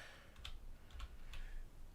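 Keys tapped on a computer keyboard while typing in a music production setup, a few light, sparse clicks spread over two seconds at close range with no talking.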